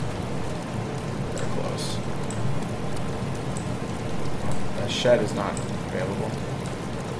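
Steady rain patters in DayZ as a soft, constant hiss of falling drops, with a voice talking over it.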